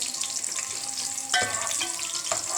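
Onion and black pepper fry in a pan with a continuous hiss, plus a sharp clatter partway through as something drops in or the pan is stirred; no voices.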